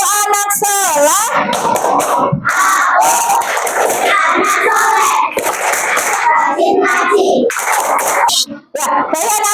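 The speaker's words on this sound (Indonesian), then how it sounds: "Tepuk anak soleh." Schoolchildren in a classroom chanting and clapping the rhythmic 'tepuk anak soleh' routine, loud group voices with sharp claps throughout, a brief pause near the end.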